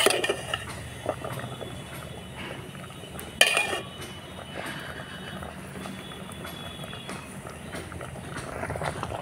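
Metal clanks and scrapes from a cooking pot as boiled cabbage is turned over in hot water on a wood-fired stove, with a sharp clatter early on and quieter stirring and clinking afterward.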